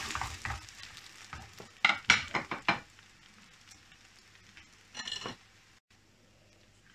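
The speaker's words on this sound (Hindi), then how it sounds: "अब इसके नीचे थोड़ा सा ऑयल और लगाएंगे, बिल्कुल थोड़ा सा ही, और उसके ऊपर ऐसे इसको पलटते हैं" Food cooks in a little oil on a pan with a soft, steady sizzle, broken by several sharp scraping and clinking bursts of a utensil against the pan, with no talking.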